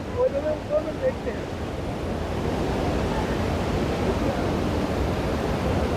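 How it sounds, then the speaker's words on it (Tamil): Rushing water at Tirathgadh waterfall in Kanger Valley National Park, a steady, dense roar of falling water that continues throughout, with brief chatter from people at the start. "இப்போ வந்து வாட்டர் ஃபால்ஸு தான் கீழே இருக்கிறது அருமையாக இருக்குது வாட்டர் ஃபால்ஸ் உடைய பாருங்கள்"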